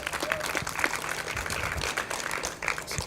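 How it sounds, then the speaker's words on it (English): An audience at a dedication ceremony applauds firefighters, dense continuous clapping from a crowd with some murmuring mixed in throughout. "let's give them a big round of applause"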